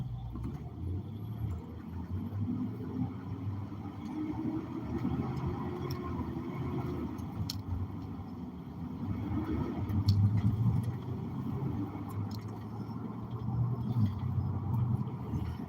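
A parked car's engine idles nearby outdoors, a low steady rumble that swells slightly around the middle and end, with no talking.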